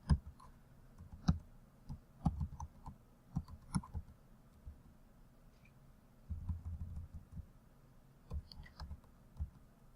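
Keys clack on a computer keyboard in uneven bursts of typing, soft and close, with short pauses between runs.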